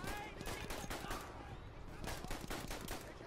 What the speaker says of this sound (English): What kind of gun is this? It's like a Mauser.